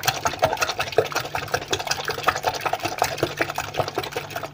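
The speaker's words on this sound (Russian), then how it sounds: "Теперь тщательно взбиваем яйца." Two salted eggs being whisked thoroughly in a bowl with a whisk, a quick steady rhythmic clicking and tapping that runs continuously at close range, with no talking over it.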